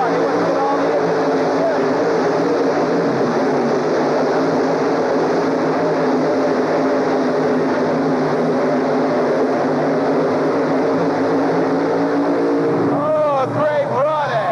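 A roaring tractor-pull engine at the 1985 Indy Super Pull thunders steadily down the track for the whole stretch, loud and sustained, with a crowd or announcer voice rising near the end.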